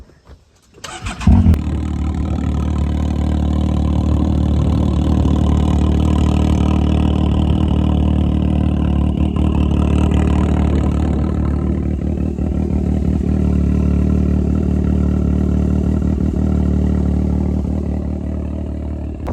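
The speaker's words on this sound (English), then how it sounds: "So yeah, this exhaust is extremely loud." A Can-Am X3 side-by-side engine fires up after a brief start, then runs loud and raspy through a muffler-delete exhaust, holding a rough, steady rev throughout.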